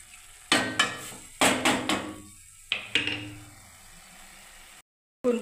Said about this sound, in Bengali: আমি এবার ঢাকা দিয়ে দিচ্ছি বন্ধুরা।